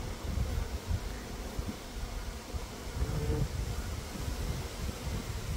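Honey bees hum steadily in an open hive, a dense close buzzing swarm sound that stays even and continuous throughout with no voices.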